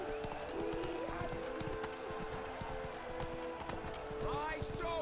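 Hooves clip-clop steadily from a horse in The Witcher 3, a soft, even rhythm running under a bustling crowd and voices at a tournament fair.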